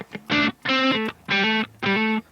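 Electric guitar played through a JCM800 amp plugin with no effects, four sustained chords in a row that sound dry, direct and harsh, with short gaps between them.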